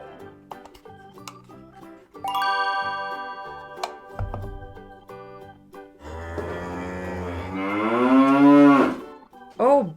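A cow moos in a cartoon castle setting, one long drawn-out call rising and falling loudly near the end, preceded by light ticking and music-like tones.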